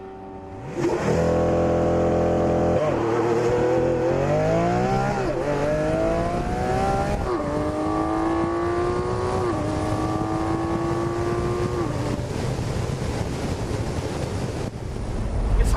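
A 2013 Lamborghini Aventador LP700-4 Roadster launches hard on a street. The loud engine climbs through several rising, stepped shifts across the whole run, with wind rush behind it.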